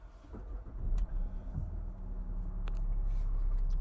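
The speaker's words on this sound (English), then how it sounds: "Start the vehicle." A 2019 Range Rover Sport 3.0 SDV6 diesel starts on the push button; a brief crank settles into a steady, loud, close low engine rumble that carries on to the end.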